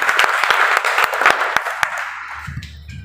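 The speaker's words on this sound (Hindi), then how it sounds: "सर के लिए जोरदार ताली" Students and teachers clapping loudly for a guest speaker at an institute's Independence Day celebration and uniform distribution ceremony: a dense burst of applause with sharp, distinct claps that dies away, followed by a brief voice.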